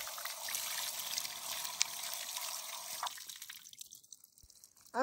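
Tap water running and dribbling while a whole chicken is washed inside and out for Peruvian-style rotisserie chicken, a steady close trickle with small drips, briefly cutting out near the end.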